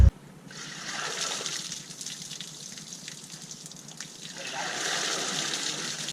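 Water sloshing and splashing while old grain is cleaned out of a bin, a continuous hissy wash that swells and eases, close by, with a voice present at times.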